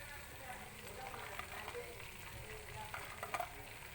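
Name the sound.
adding lentil dumplings to bottle gourd curry in pan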